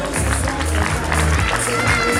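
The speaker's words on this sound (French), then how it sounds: "on l'applaudit." A crowd at a Paris croissant competition award ceremony applauds a winning baker, continuous mixed clapping with some crowd murmur and faint voices throughout.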